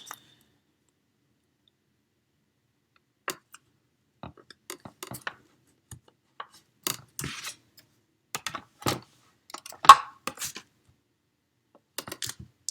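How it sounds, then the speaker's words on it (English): Small Blushing Bride cardstock pieces being cut out for a punch-art Easter bunny card: sparse, quiet snips and clicks spaced irregularly, with no talking. "And we'll get these little Blushing Bride ones cut out."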